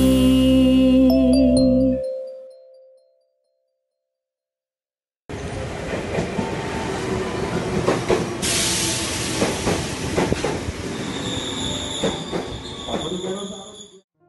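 A train running on rails follows a short tone and a few seconds of silence, then a close rumbling ride with clattering wheels, a burst of hiss and thin squeals that carries on steadily to the end.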